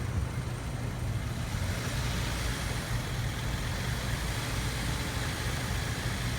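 Car engine with a non-functioning injector held at raised revs around 1,500 RPM, a steady close low rumble with uneven, lumpy pulsing from the misfire, continuous and unbroken.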